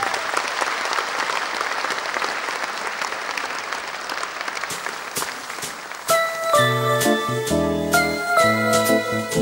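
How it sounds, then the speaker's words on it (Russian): Audience applauds a choreography performance, a loud sustained wash of clapping for several seconds before bright tinkling, chiming music enters and continues with the applause fading beneath it. "Под ваши аплодисменты."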